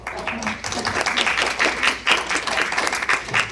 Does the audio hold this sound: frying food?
no